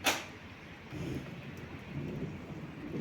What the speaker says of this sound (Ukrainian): І гримить, гримить, гримить постійно.